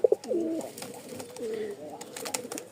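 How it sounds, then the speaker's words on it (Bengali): A male Rajshahi Tiger Giribaz pigeon gives a few soft, low cooing calls close by, with faint handling sounds in the background. "এই এক জোড়া রাজশাহী টাইগার গিরিবাজ, নরের ডাকটা আগে দেখাই"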